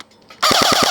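Barra 400E Gen 2 BB gun firing full auto at clay targets outdoors, a sudden loud burst of four or five rapid, evenly spaced shots close to the listener after a quiet start.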